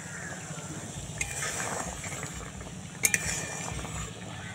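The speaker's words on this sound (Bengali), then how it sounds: "5 মিনিট হয়ে গেছে, এবার ঢাকনাটা তুলে নিলাম।" A lid comes off a pot of rasgulla boiling in syrup, with a low bubbling bed of sound under a few light scrapes and a quick pair of sharp metallic clinks.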